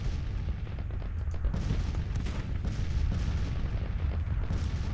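Dense, continuous artillery bombardment in the Civil War strategy game Grand Tactician, with overlapping booms and cannon fire forming a steady loud rumble and no talking.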